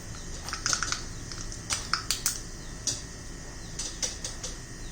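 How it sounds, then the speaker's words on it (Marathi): Mustard seeds splutter in hot oil as a tempering for kadhi: sharp, irregular crackling pops in small clusters over a steady background hiss, close and fairly quiet, with no talking. "आपण आता कढीला तडका देणार आहोत मोहरी घालूया"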